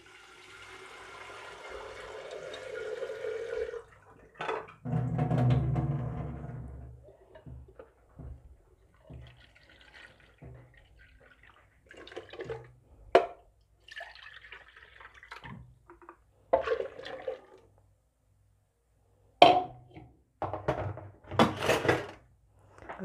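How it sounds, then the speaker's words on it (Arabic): About a litre of water is poured into a pressure cooker in a home kitchen while harira is being made. It starts as a steady rushing pour, followed by scattered knocks and clatters of pots and utensils. "غادي ندير 1 لتر ديال الماء. غادي ناخذ طنجره ديال الضغط كوكوت"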